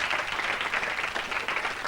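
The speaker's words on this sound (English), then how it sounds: "I think a round of applause is in order." A studio audience on a lunchtime television chat show applauds, an even wash of many hands clapping, moderately distant and steady throughout.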